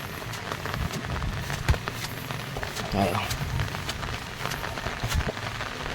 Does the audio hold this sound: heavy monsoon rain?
yes